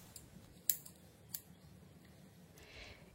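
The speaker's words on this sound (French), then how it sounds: "j'ai égoutter la vermicelle de riz et avec mon ciseau, je vais venir couper" Scissors snip through drained rice vermicelli in a quiet kitchen, two sharp distinct cuts followed by a softer one, close and isolated against faint background noise.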